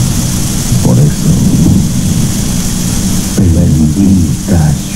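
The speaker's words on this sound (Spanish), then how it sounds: "bendita tormenta que cae, bendita lluvia." A thunderstorm with steady heavy rain pouring down, broken by two deep rolling thunder rumbles, loud and close throughout.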